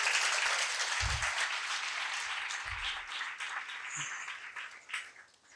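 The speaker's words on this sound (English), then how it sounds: "we should actually giving a big round of applause for his service" Steady audience applause at an ISKCON Vyasa Puja festival in Hyderabad, a dense wash of many hands clapping that holds evenly, then thins and fades toward the end, with a couple of low thumps.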